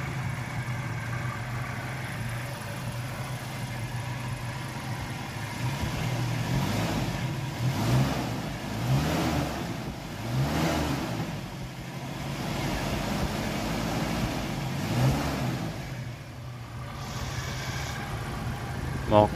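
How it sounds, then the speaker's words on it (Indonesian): A car engine in a family car runs at a steady mid-level hum, rising in several revs around the middle, with a voice speaking over parts of it. "Nih, kita lihat mesinnya dan dengerin suara mesinnya."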